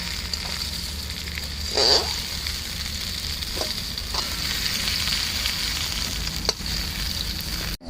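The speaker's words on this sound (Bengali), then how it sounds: "সর্ষের তেল দিয়ে দিয়েছি এবার আলুগুলোকে ভেজে নেব" Potato pieces fry in hot mustard oil, a steady close hiss and crackle that runs throughout, with a few brief louder spatters and clinks near the start and middle.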